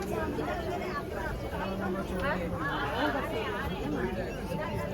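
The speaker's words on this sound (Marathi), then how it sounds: "आता पनवेल आल्याने गर्दी बघा किती आहे." Dense crowd chatter fills a packed passenger train carriage at Panvel station on the Diva–Sawantwadi Konkan Railway route, a steady babble of many overlapping voices close around.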